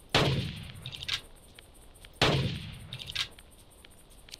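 Two loud gunshots in the video game Carnivores, about two seconds apart, each with a sharp crack and a long ringing tail, followed by softer metallic clinks.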